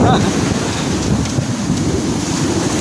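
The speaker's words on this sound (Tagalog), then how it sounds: "malakas kasi yung bagyo ngayon" Strong typhoon wind roars steadily and buffets the microphone, with a constant rushing noise and no clear voices.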